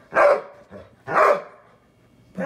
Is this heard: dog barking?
yes